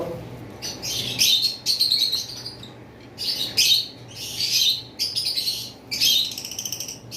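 Pet lovebirds, a green Fischer's and an albino black-eyed, chirping in close, shrill bursts of rapid tweets separated by brief pauses, with a faint low hum beneath.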